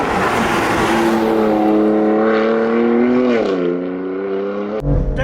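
A BMW F82 M4 track car, fitted with Nitto rear tyres, screams on a track day at high revs, its loud engine note holding steady, then dropping and easing off before a sharp thump at the end.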